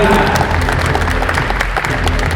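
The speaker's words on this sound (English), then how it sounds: "Get a huge round of applause for Ruth, Martin, and Matt." An audience at a live JavaScript music event applauds three performers, a loud, dense, continuous wash of clapping close up with crowd noise mixed in.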